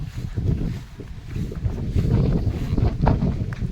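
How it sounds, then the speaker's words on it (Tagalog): Strong wind buffets the microphone in steady low rumbling gusts, loud and continuous throughout, with no one speaking. "ang lakas ng hangin"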